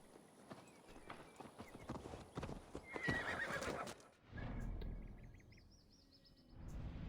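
A horse's hooves clop steadily in the video game Assassin's Creed Valhalla, followed by a loud, close whinny trailing into a fluttering snort, with faint birdsong around.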